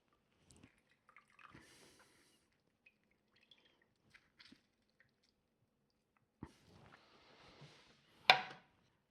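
A halved fruit is squeezed by hand while making elderflower cordial, giving faint wet squishes and sparse drips, then a denser burst of juicy squeezing and a sharp wet squelch near the end, with no talk.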